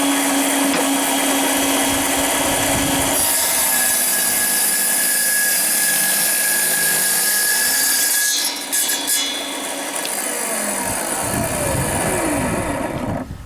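Mini battery-powered portable table saw cutting through oak, a loud steady whining motor with harsh blade noise that dips and strains partway through the cut, close and alone.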